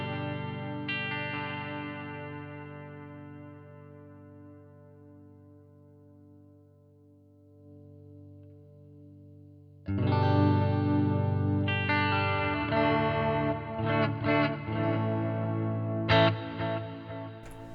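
Electric guitar played through plate reverb and a memory line delay after a Joyo Jackman 2 tone-capture amp clone: a sustained chord ringing out and fading, then a louder burst of strummed chords and picked notes with trailing echoes.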